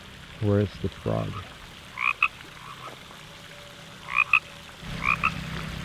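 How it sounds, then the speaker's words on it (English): Frogs croaking in a garden, a couple of loud rasping croaks close by early on, then scattered shorter calls and faint chirps in a quiet outdoor setting. "A lot of frogs."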